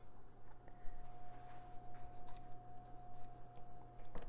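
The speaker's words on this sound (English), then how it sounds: "cut that collar out. And you should be able to run along the middle here as well to get that all cut out." A knife cuts the collar out of a stocked trout, making faint, scattered crackling and slicing sounds close by over a low steady hum, with no speech.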